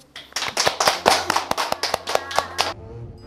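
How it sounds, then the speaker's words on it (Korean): Children in a classroom clap together in a burst of roughly a dozen quick, sharp, fairly close claps, loose in rhythm, with faint voices beneath and a soft tail at the end. "오늘은 여기까지. 박수!"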